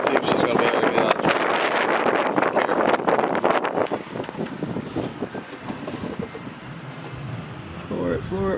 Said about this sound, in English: The wind's coming.